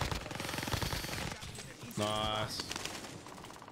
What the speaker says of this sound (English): Oh, being shot from behind.